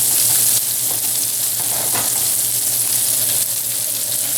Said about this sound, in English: So we continue cooking the pancetta until it gets nice and brown.